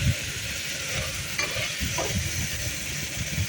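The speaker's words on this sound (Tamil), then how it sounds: "இப்போ பாருங்கள், நான் தக்காளியை போட்டு வதக்கிட்டுருக்கேன்." Chopped tomatoes sauté in a hot pan for a mushroom biryani, a steady close sizzle with a couple of spoon scrapes against the metal partway through, no voices.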